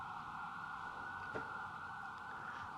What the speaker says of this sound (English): those sirens are so loud